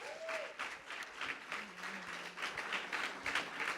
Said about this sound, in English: can we have another round of applause for those amazing pieces?